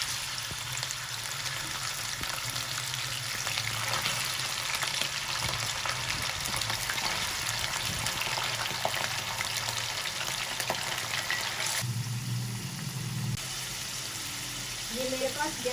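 Hand-minced chicken keema sizzles and fries steadily in a karahi for a dhaba-style dish, a continuous hiss with occasional stirring scrapes and a brief louder burst near the end.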